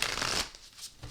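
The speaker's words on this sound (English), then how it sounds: "let me do a couple more shuffles so we can get started" Tarot cards are shuffled in a quick, close, papery riffle that fades out, then gives a brief softer flick at the end, with no voices.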